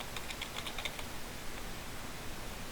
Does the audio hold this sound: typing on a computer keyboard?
yes